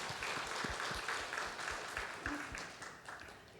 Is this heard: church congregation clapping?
yes